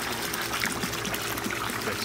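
Hot tub jets running on the low setting make a steady, quiet rush of bubbling, churning water that continues unbroken and evenly for the whole stretch.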